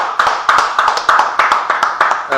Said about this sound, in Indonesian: Yuk kita beri tepuk tangan dulu buat Pak Harta ya.